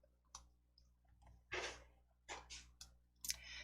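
Several sharp mouse clicks, spaced irregularly, sound close and fairly soft against a quiet background while a star shape is picked in PowerPoint.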